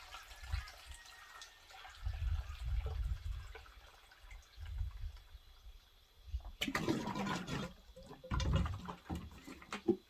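Seawater poured from a scoop into a mixture for homemade eco-friendly pesticide, a sloshing liquid pour in a couple of bursts with low splashing, near and moderately loud, no talk.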